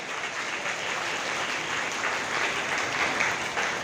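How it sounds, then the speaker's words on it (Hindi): Steady, dense audience applause at a one-day workshop on child marriage and dowry eradication in Arrah, rising slightly in intensity and continuing without pause, with no voices over it. "तालियां और थोड़ी तीव्र हो जाएं।"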